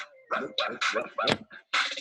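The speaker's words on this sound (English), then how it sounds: "And Saturday, it's okay to bark like a dog." A dog barks in a rapid burst of about six sharp, loud yapping barks close to the microphone, some with a whimpering edge.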